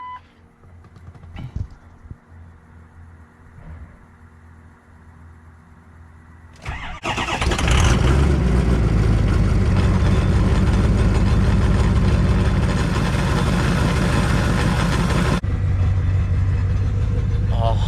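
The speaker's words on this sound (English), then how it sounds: "we're gonna get a cold start on the new turbo" A cold start on a truck's 6.0 engine fitted with a new KC turbo: quiet rustling, then a cranking catch and a loud, rough, roaring idle that holds steadily close by, easing slightly near the end.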